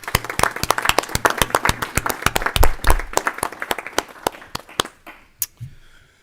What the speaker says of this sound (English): let's break and give her a round of applause then